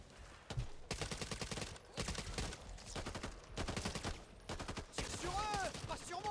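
Rapid automatic gunfire bursts in the co-op shooter game Back 4 Blood, loud and close in repeated volleys separated by short pauses, with players talking over and between them.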